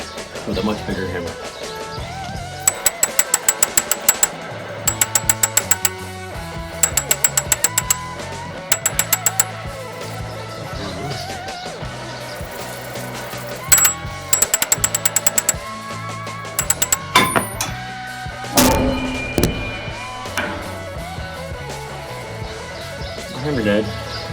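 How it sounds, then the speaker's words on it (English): Heavy hammer blows ringing on a Ford F250 front brake rotor, heard as sharp metallic strikes in quick clustered bursts over a steady background hum, with pauses between volleys. "With a much bigger hammer."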